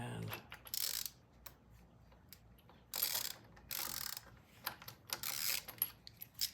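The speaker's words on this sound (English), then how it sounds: "These are a set of stud removers, and you just put them on here like so" Clicking ratchet bursts sound again and again as a stud remover tool is turned on a studded engine of a 1971 Norton motorcycle, close and fairly quiet between the bursts.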